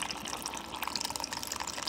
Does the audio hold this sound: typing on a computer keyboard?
no